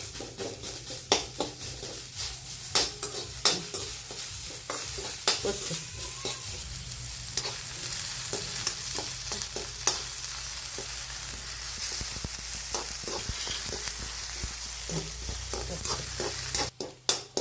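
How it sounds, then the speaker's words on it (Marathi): Onion frying in a little oil for a curry sizzles steadily and close, with frequent stirring scrapes and clinks of a spoon against the pan, no voices. "असा कांदा करपूस भाजून घ्यायचा"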